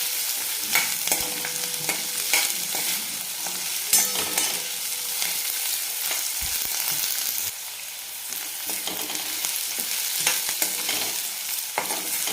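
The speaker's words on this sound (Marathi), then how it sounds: "याला पण चांगला आपण परतून घेणार आहे कांदा मऊ घ्याय करून घ्यायचा आहे" Chopped onion is sautéed in a pan until soft but not golden: a continuous close sizzle and hiss with frequent light spoon scrapes and taps as it is stirred, without any speech.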